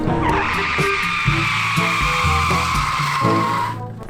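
Daewoo Matiz running on brake cleaner as fuel, skidding sideways under hard braking, with a loud sustained tyre squeal over a rough, rumbling engine, cutting off abruptly at the end.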